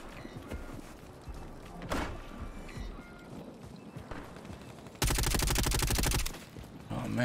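RAM-7 assault rifle fire in Call of Duty: Warzone: scattered game shots and clatter give way to a loud, dense automatic burst lasting over a second, with brief bursts around it.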